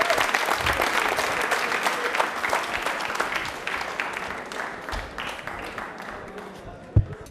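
A large audience applauds loudly and steadily for Asha at a televised quiz programme on Ambedkar Jayanti, the sustained clapping slowly fading toward the end.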